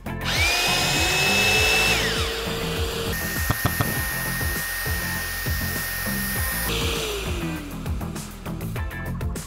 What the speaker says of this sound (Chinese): 只要把有线工具插到这个插座上，总开关扭至左侧，工具启动它就启动